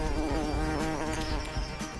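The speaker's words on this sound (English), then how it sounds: "We better go now. Bees are getting angry." Angry bees swarm around a hive, a dense buzzing hum that wavers and swells as insects pass close. The sound is loud, continuous for two seconds and has no talk over it.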